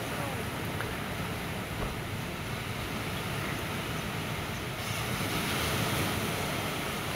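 Surf rolls onto a quiet, empty beach, a continuous wash of waves with some wind noise, steady and moderately loud, with no speech.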